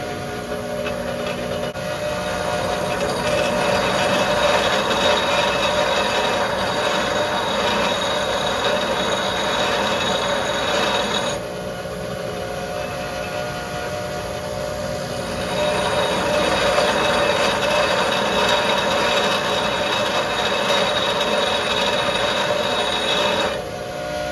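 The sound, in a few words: bench grinder sharpening a drill bit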